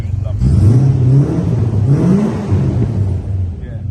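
A 1976 Rover 3500 P6 V8 idles and gently revs close by, a low rumbling burble rising and falling under a steady mechanical hum.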